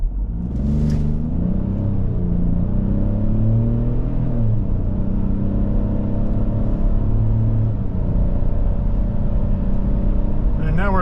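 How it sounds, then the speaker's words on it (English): A 2023 Ford Bronco Sport Big Bend accelerating hard from a standstill toward 60 mph, its engine note climbing through steady rising drones under continuous road rumble from inside the cabin. "And now we're at 60, and we're zooming down the road."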